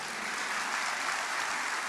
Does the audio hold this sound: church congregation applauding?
yes